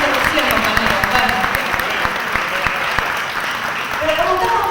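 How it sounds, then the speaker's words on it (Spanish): Audience at a public event in General Rodríguez applauds steadily, a dense sustained patter of many hands clapping with some voices mixed in, moderately loud throughout. "Así que un fuerte aplauso"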